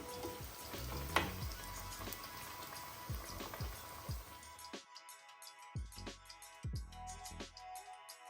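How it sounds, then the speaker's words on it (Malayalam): Fish cutlets frying in hot oil give a steady, close crackling sizzle with sharper pops, thinning after a few seconds into sparse spits and short bursts, likely as pieces are lifted out. "ഈ കളറിൽ എല്ലാം വറുത്ത് കോരണം"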